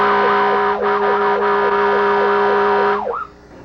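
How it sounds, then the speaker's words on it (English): An emergency vehicle's siren, sounding while responding with lights on, wails up and down in a repeating rising-falling sweep over a steady tone, loud and close, then cuts off abruptly near the end. "The lights and siren are asking for permission to pass."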